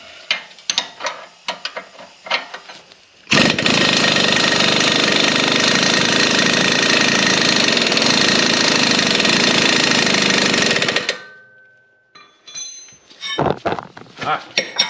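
A power tool works a 21 mm nut on the lower control arm of a 2012 Buick Lacrosse. A few clanks lead into a loud, close mechanical burst lasting about eight seconds, which then stops and is followed by scattered metallic clinks.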